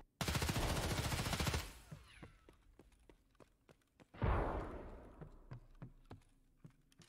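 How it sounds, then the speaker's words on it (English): Sustained automatic gunfire in an Escape from Tarkov firefight: a dense burst of rapid shots for about a second and a half, then scattered single cracks, another loud burst, and more sporadic shots, with no talk. "getting into a little firefight here"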